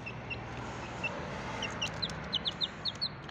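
Short, high-pitched peeps from a hungry chick repeat in quick bursts, growing more frequent and insistent over a faint background hiss.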